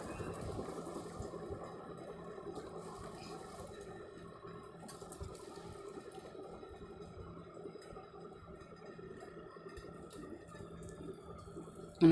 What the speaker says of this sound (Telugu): తగినన్ని నీళ్లు పోసుకొని నానబెట్టుకోవాలి.